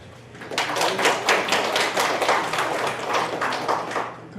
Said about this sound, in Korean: 대전 회장님한테 우리 박수 한번